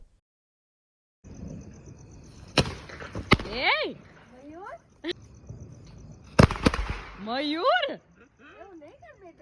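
Two sharp Diwali firecracker bangs go off a few seconds apart, each followed by rising whistling squeals, with voices talking in between.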